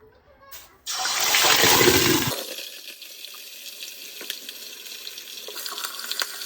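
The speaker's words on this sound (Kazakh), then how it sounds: "Ең бірінші етімізді жақсылап жуып аламыз" Tap water runs loudly as beef is washed before cooking in a pot, a strong splashing burst that stops after a couple of seconds, followed by quieter clinks and handling noises.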